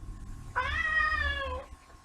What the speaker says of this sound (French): Et quand je filme, tu miaules?